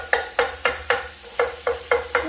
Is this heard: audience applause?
no